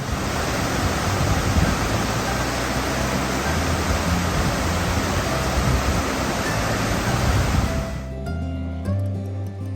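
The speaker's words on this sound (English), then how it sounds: "there's lots and lots of waterfalls and cascades all the way up the valley" Rushing water from the waterfalls and cascades of Pyramid Creek on a Lake Tahoe valley trail, a constant broadband roar close by that cuts off abruptly near the end, leaving quieter background.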